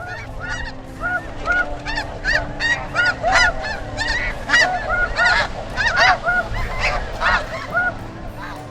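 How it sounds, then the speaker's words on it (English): A flock of wild geese honks continuously, with many overlapping calls in a dense, pulsing chorus at close to middle distance and no voices. "hunters will try to imitate the goose's call to lure them to a prepared area."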